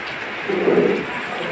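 Rain falls steadily in a dense, even hiss, with a brief low rumble swelling in the middle.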